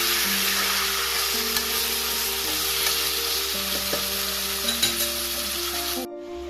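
Chicken meat frying in a pan while being stirred during home-style Assamese chicken curry cooking, a steady close sizzle with scraping stir strokes throughout, cutting off abruptly near the end; no one speaks.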